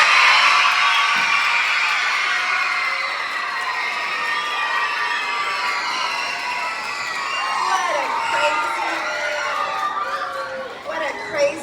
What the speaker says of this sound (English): Can I hear a cheer for Miss Goodson?